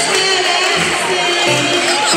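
Audience at a teachers' tribute ceremony at UNIP clapping and cheering, a dense, continuous roar of crowd noise with shouts mixed in, loud and steady throughout.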